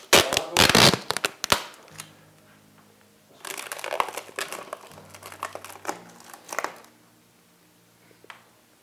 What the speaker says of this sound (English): we are going to use tape to keep the tree on the position